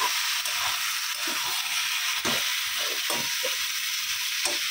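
Ridge gourd and onion fry in a pan for a Bengali poppy-seed dish, giving a steady, loud sizzle with occasional soft scraping from stirring.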